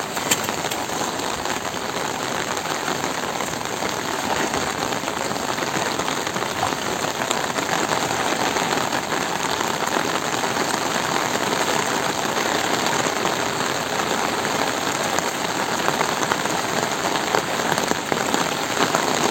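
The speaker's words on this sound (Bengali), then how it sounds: "এই যে বৃষ্টি নামে পড়ছে দর্শক বন্ধুরা।" Steady rain patters across the surface of a fish pond in an unbroken, even hiss that stays close and fairly loud throughout, with no voices.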